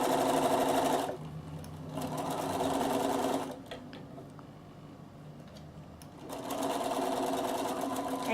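A Bernina sewing machine stitching the armhole of a reversible vest, whirring in steady bursts with a pause of quieter handling and light clicks in the middle before the motor runs again.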